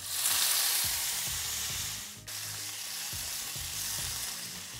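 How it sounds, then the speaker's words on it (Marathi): Steady, loud sizzling of cauliflower frying in hot oil with crackled mustard seeds, with occasional clinks and scrapes of a round spoon stirring the pan. "मोहरी तडतडली, त्याच्यात आपण हा फ्लॉवर घालून घेऊया."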